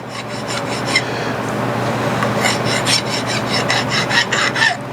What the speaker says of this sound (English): Deburr this one.